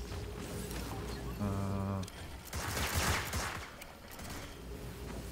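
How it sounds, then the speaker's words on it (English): Gunfire crackles in the Evil Genius 2 world-domination game, a brisk fusillade of shots heard at a distance as if from another floor, mixed with game sounds and a short tonal chime. "There's gunfire going off all the time, but it's upstairs."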